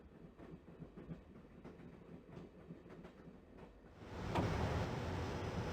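A video game train rolls along the tracks with a rhythmic clickety-clack at moderate distance. It swells into a louder, rushing roar near the end.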